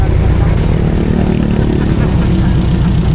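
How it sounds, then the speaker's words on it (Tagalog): An overhauled jeepney engine idles close by, giving a loud, steady, rough mechanical rumble with a fast low throb throughout and no talking. "nagpunta muna kami dun sa nag-overhaul na makina na ito dito kay Kuya Makmak"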